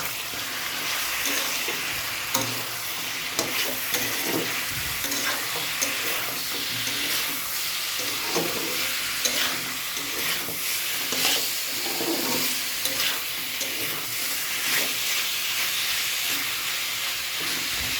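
Marinated meat stir-fries in a hot pan, giving a loud, continuous sizzle and hiss with steam, while a spoon scrapes and turns the pieces in irregular strokes throughout.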